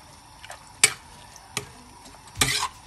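Aloo gosht, a potato and meat curry, being stirred in a pot, with a few scattered scrapes and clinks of the spoon, one louder burst near the end, and quiet gaps between.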